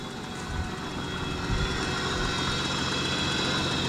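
A 1992 Dodge Caravan engine idles steadily with the hood open, a continuous low rumble and hum running close and fairly loud throughout, with no talking over it; the engine is said to need a head gasket.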